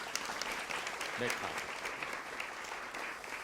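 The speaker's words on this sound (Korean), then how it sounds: "네, 박수 한번 부탁드릴게요." Audience applause at a lecture show, moderate and steady, with a short spoken word from the stage heard briefly over the clapping.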